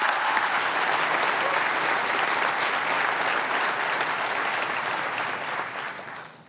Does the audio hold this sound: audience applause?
yes